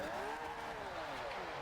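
A heavily tuned, roughly 500-horsepower car spins out in the racing game Forza Horizon 2, a sustained tire squeal whose pitch sweeps up and then falls over engine noise in a short, steady burst.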